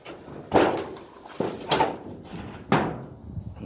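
A shop door is opened and shut: three separate bangs and thuds, each followed by a short rattling decay, heard up close.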